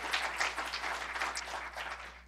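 Audience clapping at a CUNY state-of-the-university address, a short, fairly faint patter of many hands spread across the room, with no voices over it.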